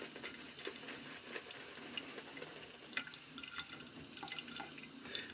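Water runs from a sink tap during a shave with a stainless steel safety razor, a faint steady splashing stream with soft drips, alone without talk.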